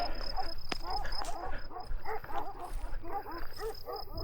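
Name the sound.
dog barking on a mountain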